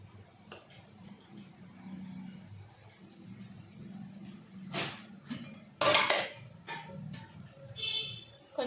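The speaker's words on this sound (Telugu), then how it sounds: "సాల్ట్ వేసి కలిపేలాగా కలుపుకోవాలి" Dosa batter being stirred with salt in a home kitchen, heard as faint, scattered scrapes and clinks of a utensil against a pot, with a couple of louder clatters partway through.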